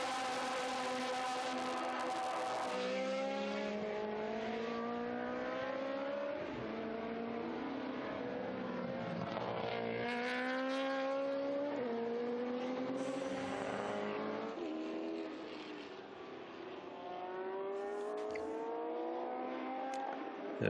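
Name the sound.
historic racing cars, Porsche, at Estoril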